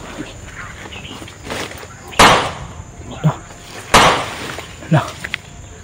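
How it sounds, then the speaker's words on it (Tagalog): Two sharp, loud gunshots about two seconds apart ring out over a noisy outdoor background, with people talking and other small knocks in between. "Putok ng baril yan."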